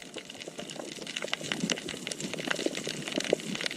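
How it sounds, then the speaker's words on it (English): Snapping shrimp crackle underwater on an Indonesian coral reef, a dense irregular spatter of sharp clicks and pops over a quiet background that grows slightly busier as it goes. "the dominant sound you hear is this crackle, and that's actually the sound of snapping shrimp."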